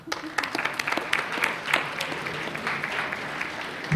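An audience at a Hall of Fame induction ceremony applauds steadily, a crowd of hands clapping at moderate loudness with a few sharper claps standing out near the start.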